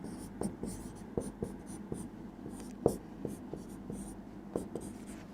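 Letters are written on a board with a steady series of short tapping and scratching strokes, close and quiet over a faint background hum, without talking.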